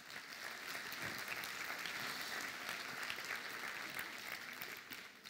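An audience at a talk on chocolate versus vegetables claps steadily and fairly loudly throughout, a dense, even wash of many hands with no voices rising above it.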